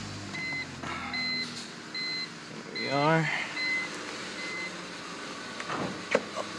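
A 2004 BMW 325xi E46 engine cranking and starting, with the rising whir of the starter and catch of the engine midway, alongside steady warning chimes and a person speaking briefly.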